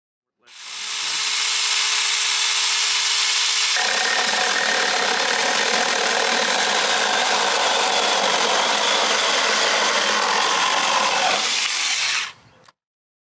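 A Saker mini electric chainsaw cuts through a clamped 2x4 piece of wood, a loud steady motor whine that deepens as the chain bites, lasting about twelve seconds before stopping abruptly.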